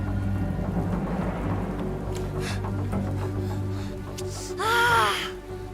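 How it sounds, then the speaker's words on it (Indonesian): Rain falling outside a house, a steady broadband hiss with scattered patters under a low hum, and a voice rising in a brief exclamation near the end. "Hujan ya?"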